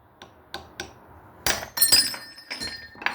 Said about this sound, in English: when I hit it with the hammer